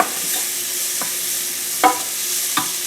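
Onions and spices, including turmeric, sizzle steadily in a hot pan for a potato pea curry, with a few sharp scrapes and clinks as a spoon stirs them.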